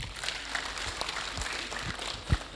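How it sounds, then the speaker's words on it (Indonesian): An audience at a talk on youth and politics bursts into brief, steady applause, a dense patter of many hands clapping at moderate distance for a couple of seconds. "Aplaus."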